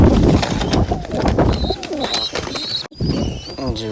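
A pigeon coos close by in short throaty phrases, with other bird chirps mixed in over a rough, noisy background.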